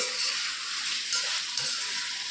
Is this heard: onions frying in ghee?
yes